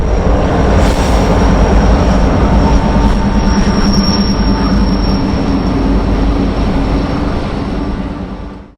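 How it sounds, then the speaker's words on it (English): A Union Pacific freight train crosses Donner Pass in winter with a loud, continuous heavy rumble of rolling cars and a thin high wheel squeal riding over it, fading slightly at the very end. "Today, Union Pacific freight trains still battle this mountain range as they travel through some of the most spectacular scenery in North"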